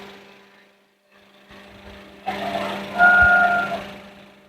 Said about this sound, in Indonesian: Nah, itu motor van-nya dia muter.